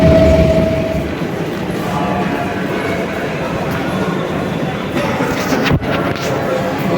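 A metro train rumbles along at steady speed with continuous rolling noise and faint rattles, heard from inside a carriage, with a brief sharp clunk near the end.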